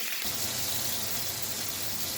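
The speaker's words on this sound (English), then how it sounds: "I'm going to wash my hand with soap, warm water for 20 seconds." Warm running tap water gushes steadily over hands being washed with soap at a kitchen sink, a continuous close, even splashing rush with no talking.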